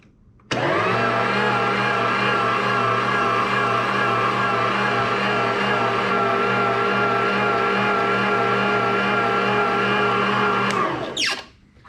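An electric meat grinder runs a second grind of deer sausage meat: the motor starts abruptly, holds a loud, steady whirring drone for about ten seconds, then shuts off and winds down. No speech.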